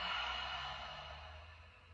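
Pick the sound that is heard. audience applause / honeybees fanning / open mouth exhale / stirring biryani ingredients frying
open mouth exhale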